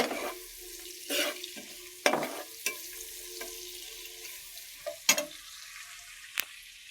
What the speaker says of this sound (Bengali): এখন আকালি পেঁয়াজ দিয়ে দিলাম